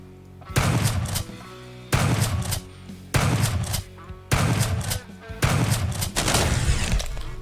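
Gunfire in the sci-fi shooter Quasimorph, heavy roaring bursts lasting about a second each, five in a row with short gaps, loud and close, shotgun blasts in a game's combat.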